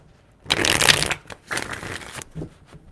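A deck of tarot cards is shuffled by hand, with three close, crisp riffling bursts, the first longest and loudest, followed by quieter card handling.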